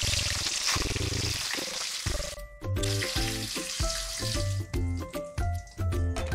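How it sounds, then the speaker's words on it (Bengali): Paneer pieces frying lightly in hot white oil in a wok (kadai), a loud steady sizzle with bursts of crackling and occasional clinks of a spatula or pan, no talking. "তেলটা গরম হয়ে গেছে, এর মধ্যে আমি পনিরগুলো দিয়ে হালকা ভেজে তুলে নেব"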